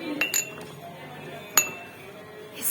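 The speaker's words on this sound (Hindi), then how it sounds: "इसकी आवाज तो अलग ही जा रही, देखो कांच" Drinking glasses arranged on top of a refrigerator clink together in a few bright, sharp taps, spaced apart and fairly close in a quiet room.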